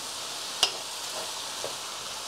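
Food stirred and sizzling in a pan for a simple home-cooked New Year's Eve Tết family meal, a steady close frying hiss with one sharp utensil clink early on and a softer scrape later.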